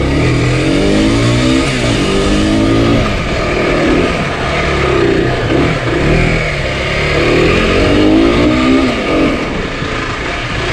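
An Aprilia 125 RX motorcycle with a fault that keeps it from pulling properly revs its engine close by while being ridden back, rising and falling in repeated throttle swells with no talk.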